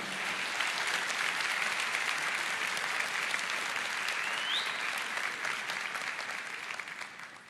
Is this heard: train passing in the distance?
no